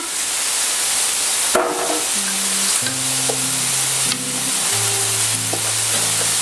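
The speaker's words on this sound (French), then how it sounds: "je vais faire griller un peu les épices" Spices toasting in a frying pan while sautéing beef with onion, a steady sizzle and frying hiss throughout with a few clinks and stirring knocks over it.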